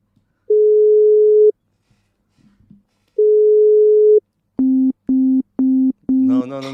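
A phone call gives two long steady tones, then a fast busy signal of four short evenly spaced beeps, clean and loud, followed by a voice at the end.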